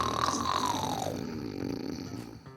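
A person with their mouth taped shut, breathing in through the nose, imitates a snore: a short, fairly quiet rattling vibration that falls in pitch and fades, with no talking over it.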